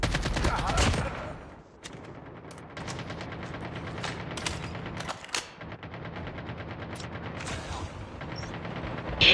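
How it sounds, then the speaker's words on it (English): Rapid gunfire in an online shooter video game: dense, loud volleys of shotgun blasts and other shots run almost without a break, with a short lull and a few sharp bursts standing out. "The shotgun shots."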